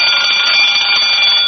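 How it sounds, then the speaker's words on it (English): A burglar alarm in a fur store, an old-time radio sound effect, gives a loud, steady, continuous ring that stays unbroken for the whole short stretch with nothing else heard. "I better test the burglar alarm."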